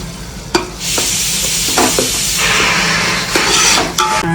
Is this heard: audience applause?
no